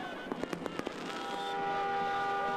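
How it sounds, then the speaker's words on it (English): Fireworks bursting at a winter independence celebration in Kosovo, a quick run of sharp cracks and pops followed by a sustained crackling, whistling hiss that fills the air. "A whole lot of fireworks."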